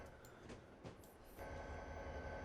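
A freight train slowing under braking in Train Simulator 2020 on Cajon Pass, with a steady low rumble and rolling noise, a brief squeal of brakes near the start, and the sound growing slightly heavier toward the end.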